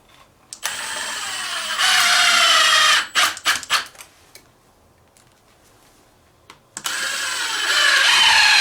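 A cordless power drill drives a screw into wood in short bursts: a whirring run that rises in pitch, a few stuttering pulses, a pause, then another sustained whir, close and loud with no talking.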